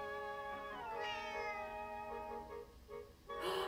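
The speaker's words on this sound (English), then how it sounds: "Cat alert." Repeated close meows from a cat in Zelda: Echoes of Wisdom ring out over a sustained musical background, one longer wavering call followed by softer ones and a brief burst of noise at the end.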